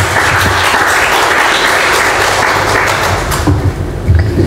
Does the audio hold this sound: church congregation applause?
yes